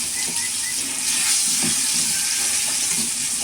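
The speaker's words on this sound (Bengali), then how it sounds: "একটু রসুনটা লাল লাল করে ভেজে নেবো" Garlic fries in a pan for a home-cooked meal, giving a loud, even sizzle and hiss with a few soft stirring knocks. The sound is close by and nobody speaks.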